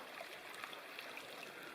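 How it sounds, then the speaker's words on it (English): A creek gurgles below a forest campsite in Tennessee's Martha Sundquist State Forest, a soft continuous rush of flowing water heard from a little distance, steady and quiet with no talking. "this is the gurgling creek down below"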